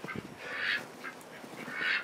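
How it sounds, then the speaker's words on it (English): Ducks playing in cold winter mud give two loud, nasal quacks close by, one near the start and another at the end, with softer calls between and no talking. "these ducks just love to play in the mud"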